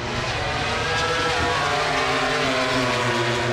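MotoGP racing motorcycles roar past the grandstand at the Mandalika circuit in Indonesia, a loud, continuous high-revving engine blare that fills the whole stretch with no gaps.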